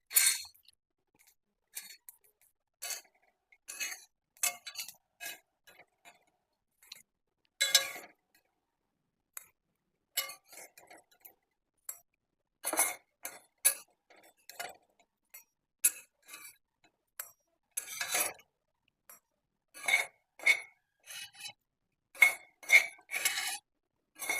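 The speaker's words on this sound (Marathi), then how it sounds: "हे सगळं मी मिक्सरच्या भांड्यामध्ये काढून घेतो" Roasted sesame seeds are transferred into a mixer jar, with a series of light, sharp metal-on-metal clinks and scrapes from a spoon against the steel jar and pan, irregular taps spread across the quiet kitchen, no talking.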